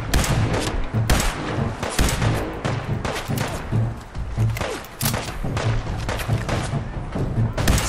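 Gunfire in the video game Fallout 4 comes in a dense, loud barrage of shots and heavy thuds that repeat steadily with almost no pause.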